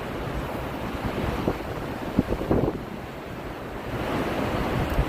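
Cold wind and waves on a Lake Ontario beach with frozen sand, a steady broadband roar of surf and wind buffeting the microphone, with a few louder gusts and no talking.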